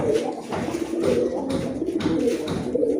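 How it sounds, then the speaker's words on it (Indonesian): A racing pigeon named Bulldozer, kept in a Cirebon loft, gives repeated low throaty coos in a rolling rhythm, close and clear with no talking. "Ini burung kesayangannya Mas Atim nih, Mas."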